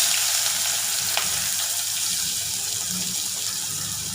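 Finely chopped onions sizzle in hot oil seasoned with fennel seeds, a steady close hiss with faint crackles, no talk.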